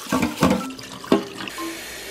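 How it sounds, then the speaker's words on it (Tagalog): Tap water splashes into a pot of rice in a few short, close gushes and trickles, uneven in rhythm, with no one talking. "Isang takal ng bigas, isang takal din ng tubig."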